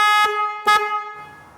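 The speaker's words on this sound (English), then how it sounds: "Everybody likes honking." An aftermarket 136 dB horn fitted to a Vespa Sprint/Primavera scooter gives two short, loud, close blasts, the second slightly longer, then fades into faint background noise.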